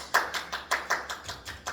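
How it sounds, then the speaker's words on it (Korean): A classroom of students clapping in a quick burst, about eight sharp, evenly spaced claps in under two seconds, close and fairly quiet with no talking. "박수!"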